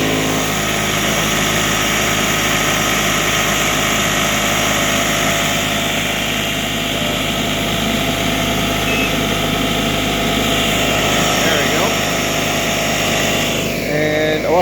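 A vehicle engine runs steadily while powering a 2000W REDODO inverter under a heavy load test, a loud continuous drone and hum throughout, with a brief shift near the end and no talk.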